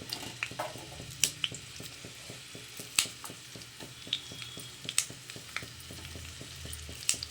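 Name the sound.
onion, garlic and green chili frying in pan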